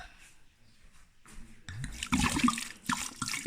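Red wine pours onto walnuts for homemade walnut wine: a soft, brief liquid gurgle and splash, growing louder toward the end, close and fairly quiet.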